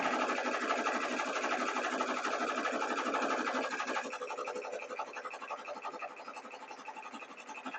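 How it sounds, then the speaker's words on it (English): A sewing machine stitches fabric for a reusable shopping bag, a steady close whirring chatter that drops a little in loudness partway through and keeps running to the end, with no voices. "And when I'm sewing, I'm watching the edge of the fabric and I'm lining it up with a spot on my presser foot."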